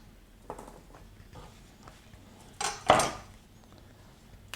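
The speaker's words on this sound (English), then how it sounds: "so we just chop off the boring dry ends" A knife chops the dry ends off carrots for a stir-fry, giving a few light taps on a cutting board, then two louder, sharper chops close together near the end.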